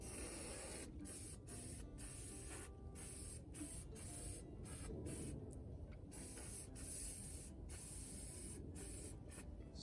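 A steady, continuous hiss of spray paint while a model tree is made outdoors on a cloudy day, with short gaps where the nozzle stops. It stays close and fairly loud at an even level throughout, with no talk.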